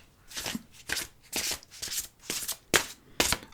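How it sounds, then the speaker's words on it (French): A gold-edged deck of cards is shuffled in about eight quick, rhythmic riffling bursts, soft and close, with short pauses between them. "essayer de mélanger ce jeu"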